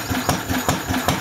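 Lister D stationary engine running at a slow, steady idle, close by, with a regular thumping beat about every 0.4 seconds over a continuous low rumble.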